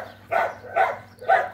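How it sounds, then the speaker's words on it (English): Three short barks sound in an even rhythm, fairly close and distinct against a quiet background. "Good dogs, good dogs."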